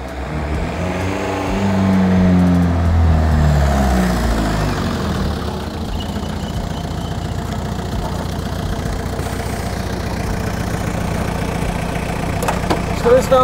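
A powerful car engine idles, rumbling loudly up close, then swells in a brief rev before settling into a steady throb, with people talking nearby.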